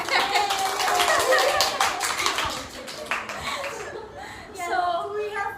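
A studio audience at a live podcast taping claps in a dense, sustained round of applause that thins out toward the end, with chuckles and voices mixed in.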